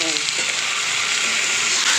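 Onions frying in a pan on a home kitchen stove, a continuous dense sizzle and crackle heard close up throughout, with faint bits of voice underneath.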